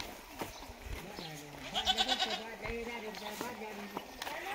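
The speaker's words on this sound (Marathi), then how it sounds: "शेळी बांधते की पलीकडे नेऊन" A goat bleats close by in a series of wavering, nasal cries that come one after another, while a person talks in the background.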